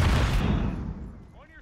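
A single loud grenade blast in Call of Duty: Modern Warfare 3 hits hard at the start and rolls off into a fading rumble, with a brief voice at the very end.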